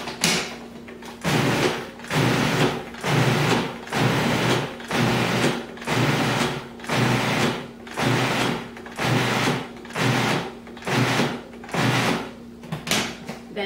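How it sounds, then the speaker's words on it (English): A food processor pulses strawberries with granulated sugar in about a dozen regular motor bursts roughly a second apart, loud and close, no talking. "place them in your food processor along with 2 tablespoons of granulated sugar and pulse them until they're coarsely chopped"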